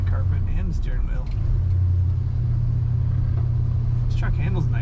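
A 1971 Chevrolet C10 Cheyenne pickup truck driving and accelerating, its engine giving a steady low rumble from inside the cab, with brief speech breaking in at moments.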